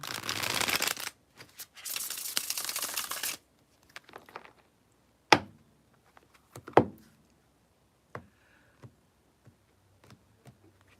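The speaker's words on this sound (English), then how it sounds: "Do a quick bridge shuffle." A deck of cards is bridge-shuffled in two quick bursts of dense, crisp flutter, followed by scattered taps and soft clicks of the cards being squared up.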